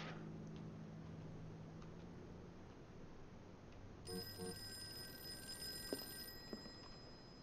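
Telephone ringing in the Call of Cthulhu video game, a steady electronic ring that repeats for a few seconds over a low ambient hum, clear and moderately loud, with no voices.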